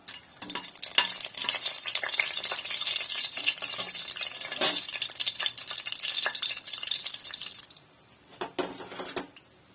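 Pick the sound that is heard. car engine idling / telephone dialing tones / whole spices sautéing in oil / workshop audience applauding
whole spices sautéing in oil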